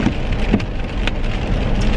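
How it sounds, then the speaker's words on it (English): Steady rain falling outdoors during a nor'easter storm, a dense continuous patter with occasional louder drips and splashes, no voices. "It is definitely rain right now."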